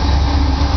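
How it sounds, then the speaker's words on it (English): A train passing close by a backyard, a loud, steady low rumble of engine and rolling wagons filling the whole moment. "Here comes a train."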